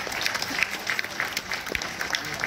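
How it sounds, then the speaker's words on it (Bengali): Audience clapping in an auditorium at the annual function of the Uttarpara Sangeet Chakra music school, a short, steady burst of crowd applause. "একটু করতালি চাই সবার থেকে।"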